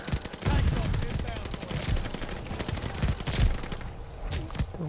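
Rapid automatic gunfire in the video game Call of Duty Vanguard, dense bursts of shots with heavy impacts, loud and close, with louder blasts near the end.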